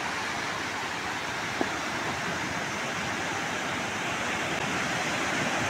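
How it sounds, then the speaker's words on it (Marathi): Sea waves wash steadily onto the shore at Guhagar beach, a dense, continuous broadband roar with no distinct breaks, heard alone without voices. "तुम्ही लाटांचा आवाज ऐका मस्त"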